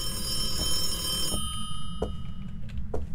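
A telephone rings in a kitchen in a video game, one sustained bright bell ring fading after about a second and a half, then a few faint short tones over a steady low rumble, with no talk.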